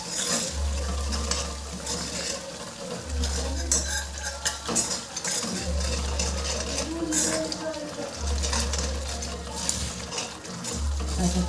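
Ground masala stirred and sautéed in a pan: a spoon scrapes and clinks against the metal over a steady sizzle, with a low hum that switches on and off at regular intervals, close and clear.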